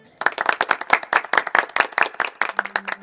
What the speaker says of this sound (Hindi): डॉक्टर बसु की सफलता पर सभी वैज्ञानिक हर्षित होकर तालियां बजाते हैं।